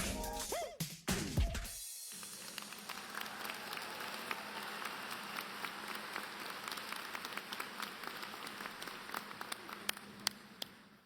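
Commencement crowd applauding graduating students at Oakland Community College: a short burst of voice and noise, then sustained, fairly faint clapping from a large hall, thinning into scattered individual claps toward the end.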